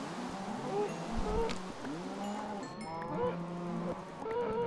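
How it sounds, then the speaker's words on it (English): Cows in the Minecraft video game moo again and again, several overlapping low calls spread across the clip at moderate volume, with no speech. "So many cows!"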